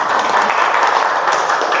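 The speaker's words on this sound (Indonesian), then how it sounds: "Kasih tepuk tangan untuk kelompok 1." A classroom group claps for students of group 1, a steady, dense patter of many hands throughout.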